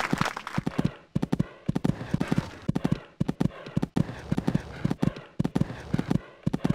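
Horse hooves galloping in the horse-riding video game Equestriad 2001, a steady rapid clip-clop rhythm of hoof beats throughout, close and clear, with a faint voice under it.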